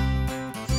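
Male kitten meowing up close, two or three drawn-out, tonal meows in quick succession, loud and clear with no talking.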